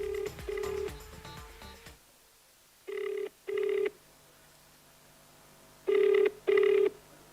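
Telephone ringback tones during a phone call, paired electronic rings repeating at regular intervals with quiet gaps between, after a short stretch of dialing tones at the start.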